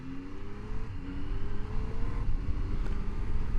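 A 2025 Triumph Tiger Sport 800 motorcycle accelerates hard through quick-shifter gear changes. The engine note rises, drops briefly at each shift and climbs again, heard close and continuous with no talking.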